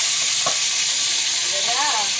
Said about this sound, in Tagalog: nagpiprito kasi ako ng tulingan